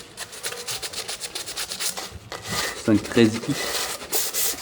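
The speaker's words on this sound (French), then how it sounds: "Alors moi je sais pas ce que je ponce." Hand sanding in a car workshop on a BMW E34 subframe, with steady repeated rasping strokes close by while someone speaks over part of it.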